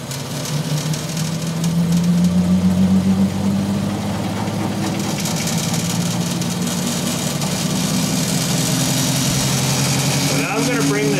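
An electric motor on an eBike project test rig runs steadily, a loud continuous hum with a rising and shifting tone and mechanical vibration, while a person talks over it.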